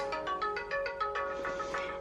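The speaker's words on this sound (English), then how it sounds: "Sorry, that's my phone." Mobile phone ringtone, a repeating electronic melody of short regular tones, clear and close with no talk.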